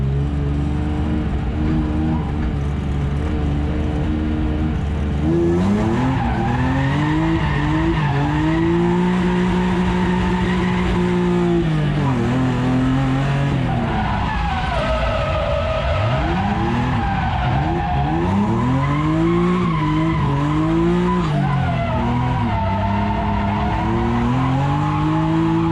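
A BMW E36 M3 skids into a backwards corner entry, tires squealing in long wavering wails over the roaring, revving engine, loud and close throughout.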